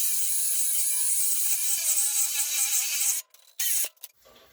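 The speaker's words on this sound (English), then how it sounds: "I think I can go in and buzz off the bolt without destroying the radiator." A high-pitched power tool buzzes steadily up close as it cuts through a carriage bolt beside the radiator of a Ford 8N tractor, then cuts out, briefly restarts and stops.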